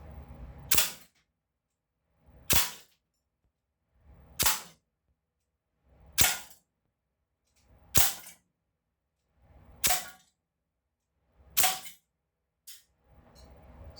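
Sig Sauer MCX gen 2 airgun at 1800 psi firing lead pellets: eight sharp, snappy shots at a steady pace about every two seconds, each a crisp crack with a short decay, separated by near silence.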